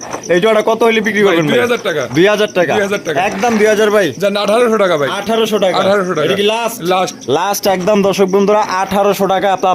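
Pigeons, including Pakistani breeds, coo repeatedly in the background at a pigeon sale while someone talks loudly over them almost continuously.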